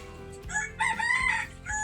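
A rooster crows nearby, a rising then sustained cock-a-doodle-doo over a steady background hum, with a brief second call starting at the end.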